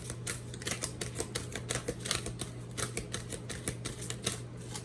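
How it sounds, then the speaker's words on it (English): Large oracle cards are shuffled in quick, repeated riffling bursts, a steady papery clatter close by over a faint background hum. "These cards are hard to shuffle because they are gigantic."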